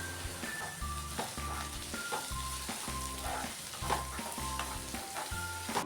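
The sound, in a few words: onions and tomatoes sautéing in pan for green gram gravy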